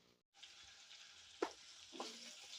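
Onion pieces fry in a pan with a soft, steady sizzle, quiet and close, broken by a couple of brief stirring scrapes.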